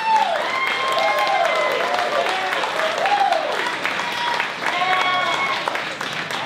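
Applause from guests at a dinner dance, a steady crowd of clapping with tonal voices or cheering rising and falling over it throughout.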